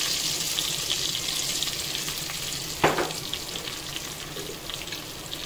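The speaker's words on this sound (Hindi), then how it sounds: "और हम इसे करीब 30 सेकंड तक इसको इसमें भून लेंगे थोड़ा सा" Golden-fried onions with bay leaves and turmeric sizzling in a pan for mutton paya, a steady close crackling fry with a brief sharp clatter midway.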